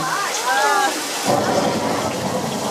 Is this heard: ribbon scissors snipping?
no